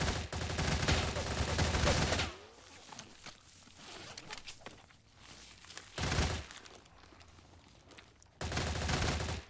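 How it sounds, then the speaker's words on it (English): Gunfire in a bandit quest-line shooter game inside a blocked-off tunnel area, arriving as dense, loud bursts of rapid shots at the start, middle and end, with quieter scuffling and movement between volleys. "you can kind of just bounce back and forth to avoid the gunfire"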